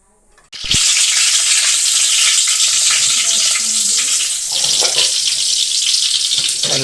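Garlic drops into a hot frying pan while a cashew curry is being cooked. A loud, steady sizzle bursts in abruptly and continues close up, with faint clinks of stirring underneath.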